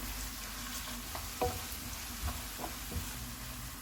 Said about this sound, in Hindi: इसमें अदरक और लहसुन का पेस्ट डालेंगे। इसको 1 मिनट तक भूनेंगे।